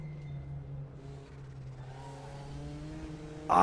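A Porsche 944 Turbo race car in the RaceRoom racing game: a steady engine drone that rises in pitch partway through, ending in a sudden loud roaring burst.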